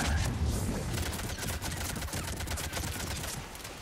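Gunfire in the video game Mass Effect 3, a dense continuous barrage of rapid shots and crackling fusillade, loud and sustained with no pause.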